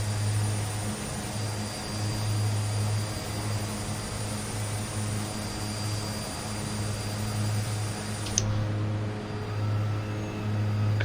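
Steady droning engines of an Aerosoft Twin Otter aircraft in Microsoft Flight Simulator 2020, a constant hum with a low tonal buzz holding at an even level throughout, broken once by a brief click near the end.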